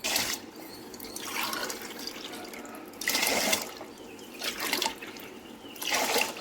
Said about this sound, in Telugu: మూడు నీళ్లు పోయాలి దీంట్లో